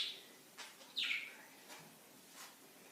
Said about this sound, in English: We're getting the soundtrack of my bird this morning.